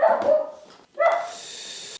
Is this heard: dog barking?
yes